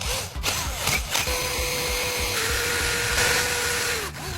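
A few sharp clicks, then an electric drill whirs at a steady pitch for about three seconds before winding down, drilling into the metal base of a light bulb.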